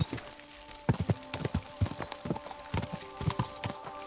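Rapid hoofbeats of a galloping horse in the medieval open-world game Kingdom Come: Deliverance II, a quick irregular clip-clop rhythm crossing open fields at moderate volume without talk.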